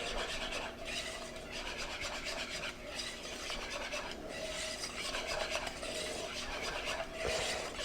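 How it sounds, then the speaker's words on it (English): Parmesan cheese being stirred into a mixture produces continuous rhythmic rasping and rubbing strokes, close and quiet, with no voices over it. "Stir that in."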